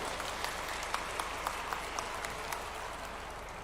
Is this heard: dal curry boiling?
no